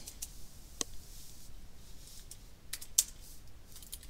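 Typing on a computer keyboard: quiet, scattered key clicks in an irregular rhythm, a few slightly louder taps standing out against a soft background hiss, with no talking.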